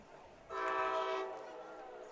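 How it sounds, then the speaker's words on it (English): A loud train horn blares with a sustained harmonic tone for under a second near a high school football game, then fades into a lingering outdoor rumble. "you know you're in Canoe when you can hear the trains whistle every few minutes"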